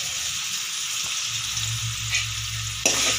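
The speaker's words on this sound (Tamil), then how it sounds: "இப்போ எண்ணெய் காஞ்சோடனே இஞ்சி பூண்டு போடுறோம்." Ginger and garlic crackle and sizzle as they hit hot reused frying oil, a steady close hiss with a brief burst of spitting near the end, heard alone.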